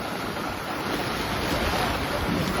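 Floodwater rushing near the Nipon bridge on the Mahiyangana–Hettipola road, where a swollen river spills over both banks; a steady, loud, broadband roar of churning water fills the whole stretch, with wind buffeting the microphone.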